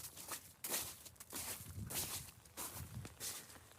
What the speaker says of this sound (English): Can you hear what my footsteps sound like?